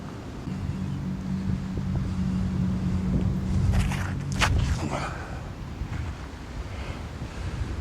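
Headwind rushes across an open disc golf course in a steady broadband roar, with a low hum and a brief gusty rustle in the middle; no one speaks.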